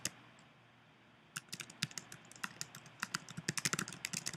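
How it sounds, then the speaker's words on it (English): Rapid clicking of computer keyboard keys as a project title is typed, starting after a brief quiet moment and continuing in quick, uneven bursts of close, crisp taps. "So I'm going to give it a title."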